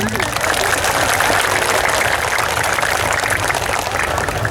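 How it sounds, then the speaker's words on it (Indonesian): An audience at a public address by an Indonesian politician breaks into steady applause, a dense sustained clatter of many hands that fills the space at even loudness. "Tepuk tangan."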